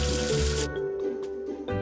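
Cartoon water sprays to rinse soap off the number 0, a bright hissing rush that cuts off after a moment, followed by faint splashing drips.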